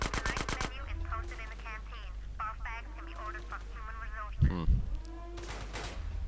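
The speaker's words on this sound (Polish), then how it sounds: "Słyszę tylko strzała, nie widzę skąd" Rapid bursts of GTA: San Andreas gunfire, a quick automatic volley at the start and another near the end, with a louder shot midway, over a voice and background game sounds.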